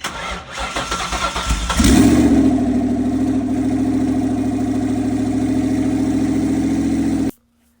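Ford Mustang engine firing for the first time after a rebuild, a starter whir then a catch into a loud steady idle that runs close up for several seconds before cutting off abruptly.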